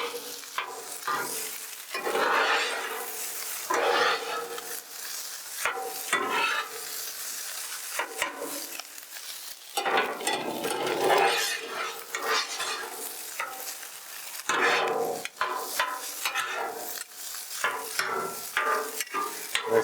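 Pork fried rice with chunks of egg is mixed on a hot Blackstone flattop griddle: repeated metal spatula scrapes and taps over a continuous close sizzle, in uneven bursts.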